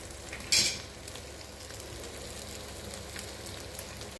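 Paneer frying in a pan, a steady soft sizzle with a sharp crackle burst near the start, fairly quiet and close, no talk.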